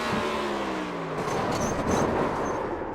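Ford race car at Martinsville Speedway, engine revving hard with a quick downshift blip, loud and close, accompanied by crowd-like track noise.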